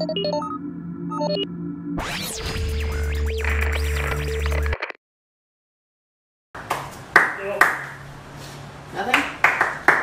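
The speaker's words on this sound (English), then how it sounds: "I'm just clapping." Hands clap in a string of sharp, irregular slaps close to the microphone, following electronic game tones and a short stretch of silence.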